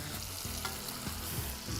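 Onion sizzling and frying in a pan during goose-liver cooking, a steady close crackle throughout with a few faint clinks, no talking.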